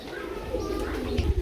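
Low Lahori pigeon coos rolling gently, close by, mixed with a voice talking in the background.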